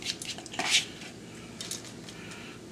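Shrimp shells drop into a metal cooking pot for stock, a few quick clattering, scraping knocks against the pot, close and brief.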